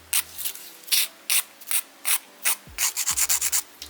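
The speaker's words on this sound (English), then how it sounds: "I'm just going to use a hand file to smooth out the edges and also remove this" A hand file rasps over the edges of press-on nails in short, close strokes, a slower run of separate passes giving way to quicker, tighter scrubbing near the end, with no voices.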